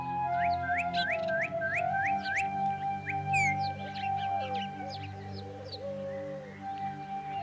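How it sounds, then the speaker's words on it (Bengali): Repeated rising whistled chirps in quick succession, then scattered higher calls, over a steady low hum; sounds like a bird or a person whistling birdsong. "চুপ করে পাখির আওয়াজ শোন"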